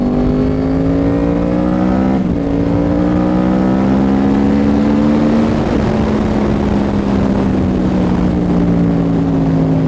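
A Yamaha R1 motorcycle with a Toce exhaust runs loud and close while riding in Mumbai, its engine droning through a steady pitch that climbs and shifts, dipping briefly as gears change, no talk.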